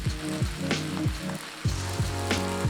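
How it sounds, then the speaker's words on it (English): Rice noodles with pad see ew sauce sizzle in a hot wok for a Thai stir-fry, with several sharp clanks of tossing and a harmonic background tone over the steady frying. "Then add the rice noodles and the pad see ew sauce."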